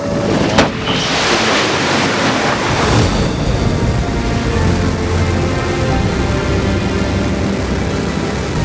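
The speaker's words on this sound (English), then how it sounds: "New Shepard has cleared the tower and is on its way to space" Blue Origin New Shepard rocket engines at liftoff, a loud continuous broadband roar that fills the whole span with steady rumbling and crackle, no voices over it.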